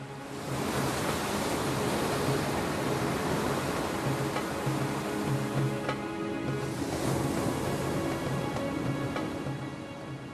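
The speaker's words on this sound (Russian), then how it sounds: "После муссона поднимаются волны." Waves roll in on the Sri Lankan coast after the monsoon, a broad, continuous rushing surf roar that stays at a steady level with slight swells and no voices.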